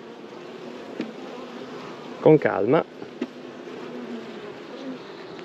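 Small summer nucleus colonies of honeybees buzz around a hive in a steady, close hum, with a brief louder burst partway through as a person speaks calmly nearby.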